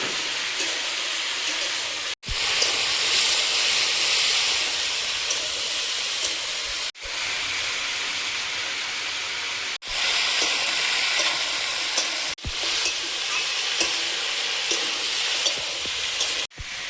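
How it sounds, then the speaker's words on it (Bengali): Malabar spinach stalks fry with potatoes, salt, turmeric and spices in a pan. A loud, steady hiss and sizzle carries on throughout, broken by a few brief sharp gaps. "এবার দিয়ে দেবো পুঁই শাকের ডাঁটা"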